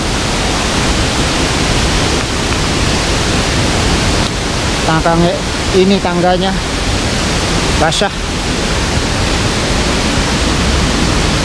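Waterfall water at Piu Putu pours in a steady, loud broadband rush that fills the whole clip, with a person speaking briefly over it midway.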